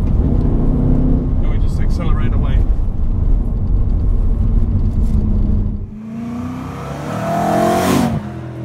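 A sports car, a BMW E92 M3 or Mercedes C63 AMG Black Series, accelerates hard out of a sharp corner, its engine roaring loud and close before dropping away, then rising again in a second rising whine.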